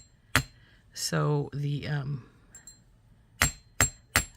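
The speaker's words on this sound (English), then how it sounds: "Now I think you could use either the nylon or your metal hammer for this" Jewelry wire is struck with a nylon or metal hammer to take a bend out of it, with a sharp tap first, then brief talk, then three crisp metallic taps in quick succession.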